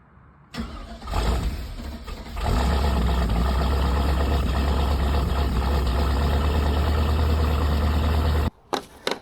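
Old bus engine cranking and catching, then settling into a loud, deep, steady idle rumble recorded close to the exhaust, ending in a brief cut and a few knocks.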